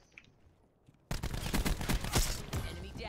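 Gunshots in the video game Call of Duty: Black Ops 4, a quiet start giving way abruptly to a loud volley of rapid sharp shots, with a player speaking over the firing.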